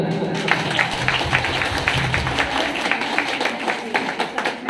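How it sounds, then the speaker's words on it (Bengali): Audience in a community gathering hall for a DXN program in Bhutni, Malda clapping for an honoured guest, a steady dense patter of many hands at moderate volume continuing throughout without a break. "এনার জন্য করে আরেকবার হাততালি হোক।"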